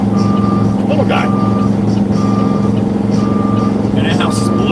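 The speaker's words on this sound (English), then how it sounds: "maybe she'll hear the beeping and come back out" A truck reverses with its backup alarm beeping in regular, evenly spaced tones over a loud, steady engine rumble, while other brief noises come and go.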